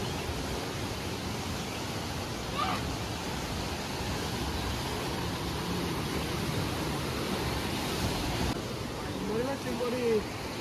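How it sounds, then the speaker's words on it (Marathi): Sea waves breaking on the shore near a temple: a constant broad roar of surf filling the whole stretch, steady and moderately loud, with faint voices in the background. "आता आपण मस्त आहे की समुद्राच्या लाटांचा आनंद घेणार आहोत"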